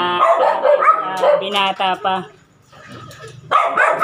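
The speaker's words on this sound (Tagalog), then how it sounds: "maiingay itong mga aso ko kasi may bisita ko rin" Several dogs bark in short bursts at a home in the evening with a visitor present, sharp yaps broken by a brief lull as a person speaks over them.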